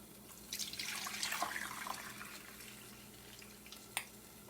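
Homemade mauby drink trickles softly into a strainer in a brief, gentle pour that fades out, followed by a single small drip or clink.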